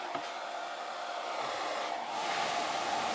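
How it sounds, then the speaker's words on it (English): A soldering fume extractor fan overdriven on a 4S battery despite a 12-volt rating, giving a steady close airy whir that swells slightly louder in the second half. "it really picks up the fan then"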